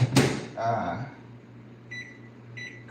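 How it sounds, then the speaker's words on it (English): Microwave oven warming tahini in a home kitchen: a thump at the start, then a steady close hum with two short beeps near the end. "I just warm it up in the microwave for a little bit"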